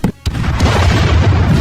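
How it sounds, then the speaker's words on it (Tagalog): A loud explosion in an animated fight scene, a sharp initial burst followed by a brief gap, then a heavy, rumbling boom that sustains with dense low roar and debris-like crackle. "Isang malakas na pagsabog na naman ang naganap."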